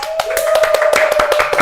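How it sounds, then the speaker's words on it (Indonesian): A short burst of brisk, close hand clapping from a small paid audience on a podcast set, sharp individual claps in quick uneven rhythm over a steady background tone. "Tepuk tangan penonton bayaran dan tepuk tangan ya."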